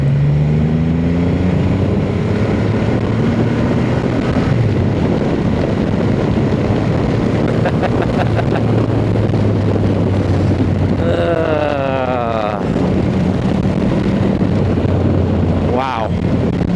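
A Triumph Rocket 3 GT motorcycle ridden in second gear gives a steady engine hum under heavy wind rush. The engine note rises briefly as the rider accelerates partway through.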